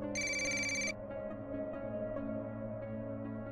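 A telephone bell rings in one bright electronic trill lasting under a second, then stops, leaving a steady low background hum with no voices.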